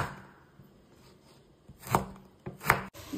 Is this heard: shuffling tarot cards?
no